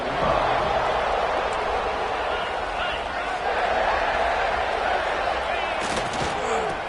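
Steady stadium crowd roar from a college football video game with Arizona State Sun Devils on offense on a third down, holding at an even, loud level throughout under a commentator's voice.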